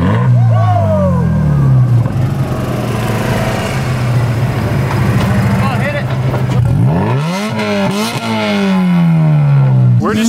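A Mazda RX-7 rotary engine at a Formula Drift event revs hard and continuously, its loud droning note rising and falling, then climbing in sharp sweeps near the end.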